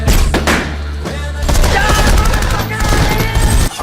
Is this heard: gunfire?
yes